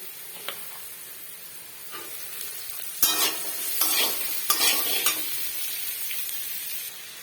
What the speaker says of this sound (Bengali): বিনসটাও আমার মোটামুটি ভাজা হয়ে গেছে।